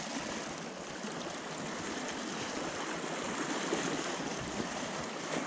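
A strong river current flowing around someone wading knee-deep, heard as a steady, continuous rushing hiss of water close by, with no talk.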